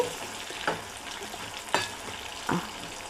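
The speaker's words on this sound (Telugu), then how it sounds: "ఇది కొంచెంసేపు ఇట్లా తిప్పుకోవాలండి" Bitter gourd pieces frying in oil hiss steadily while a spatula scrapes through them in three distinct strokes, close and moderately loud.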